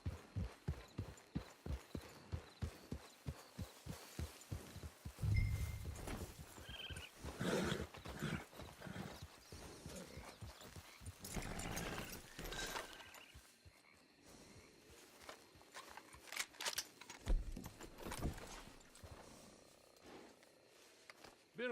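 Horse hooves clip-clopping at a walk, a regular near series of hoof strikes that later becomes irregular and mixes with other outdoor thumps and rustles.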